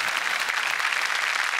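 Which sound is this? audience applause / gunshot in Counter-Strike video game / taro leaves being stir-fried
audience applause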